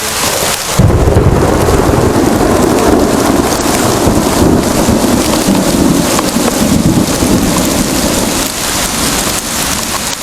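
Heavy rain pours steadily and loudly from the start, with rolling thunder rumbling beneath it, recorded on an outdoor trail camera in a wooded area.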